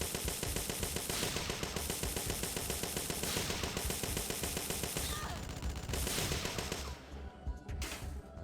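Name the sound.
machine gun fire in the video game Parasite Eve II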